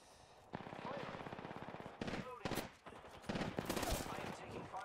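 Rapid machine-gun and rifle fire in a video game battle, dense bursts rattling almost without pause, loud and close, with overlapping shots and a voice talking underneath.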